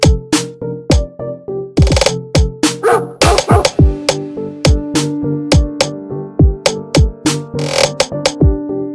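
A dog barks loudly and repeatedly, sharp close-up yaps in a steady irregular stream, with a few higher yips mixed in.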